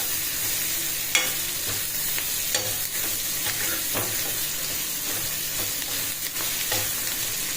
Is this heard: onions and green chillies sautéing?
yes